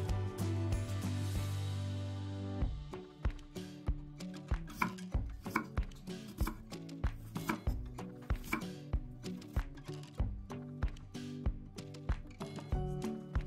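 Drained quince being chopped into small pieces for quince jam, a fast run of sharp knife strikes on a cutting board, close and steady with no talking.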